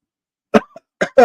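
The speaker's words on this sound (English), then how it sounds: "It makes me cough." Three sharp, close coughs: a single one, a short pause, then two in quick succession.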